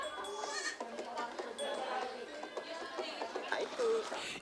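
Several goats bleating close by, their wavering calls overlapping with background voices.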